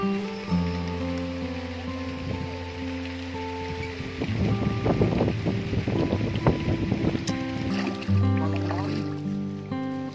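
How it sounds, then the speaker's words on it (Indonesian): Rain falls outdoors during a fish harvest for toman, a steady hiss with patter and splashes that grow denser midway, alongside a low continuous hum and mechanical tones. "Hujan turun guys,"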